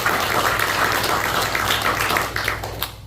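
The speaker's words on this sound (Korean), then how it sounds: "박수를 다시 드리고 싶습니다." A church congregation applauding during a pastor's retirement and installation thanksgiving service, dense continuous clapping over a low hum that fades out near the end.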